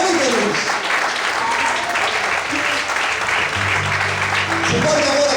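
Sustained applause from a church congregation during a sermon, dense and steady for the whole stretch, with a low held tone rising underneath toward the end.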